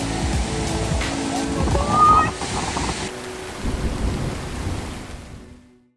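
A waterfall in Iceland roars as a dense, continuous wash of crashing water, loud and close throughout, briefly swelling in the middle before the sound fades out at the end.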